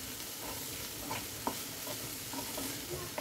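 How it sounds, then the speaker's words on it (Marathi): Onions being stirred and sautéed in a pan for methi bhaji, with a steady low sizzle and soft scraping strokes of a spoon repeating every half second or so, close and fairly quiet. "आणि सगळं असं परतून घेतलं"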